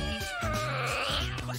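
A cartoon cat lets out a long, wavering caterwauling meow close up and fairly loud, rising and falling in pitch over about a second and a half, with no talking over it.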